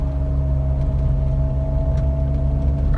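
A 2015 Jeep JK engine under acceleration, with a steady loud rumble and a constant whining tone above it that points to a weird noise. The sound runs throughout, with no talk.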